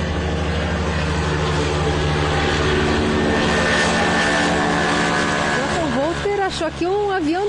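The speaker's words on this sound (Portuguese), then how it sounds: "Achou aqui um avião de pequeno porte" A small propeller airplane in flight gives a steady, loud engine drone with a buzzing harmonic hum, and a voice talks over it.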